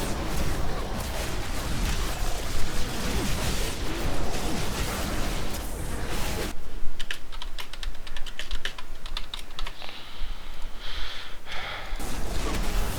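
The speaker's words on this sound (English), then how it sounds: "Sorry, I was typing something." Rapid typing on a computer keyboard clatters close up in bursts, with a brief pause midway before the keystrokes resume.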